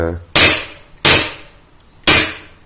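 Three sharp shots from a Smith & Wesson Sigma 40 airsoft pistol ring out at uneven intervals, each a crisp snapping pop with a short decaying tail, fairly close.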